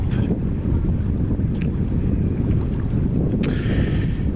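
A boat sails past a lighthouse on the Caledonian Canal near Loch Ness. A steady low rumble of engine and water runs throughout, mixed with heavy wind buffeting the microphone, and there is no talking.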